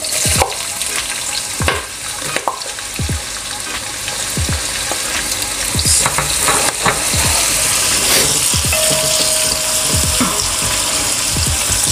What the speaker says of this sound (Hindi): ऑयल ज़रा सा गर्म हो जाए तो हमने प्याज इसमें फ्राई करना है